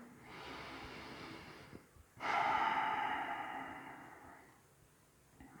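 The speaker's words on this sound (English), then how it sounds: "just take a couple breaths." Slow, deep breathing during an evening yoga flow, a soft airy exhale swelling and fading near the microphone, alone with no talk.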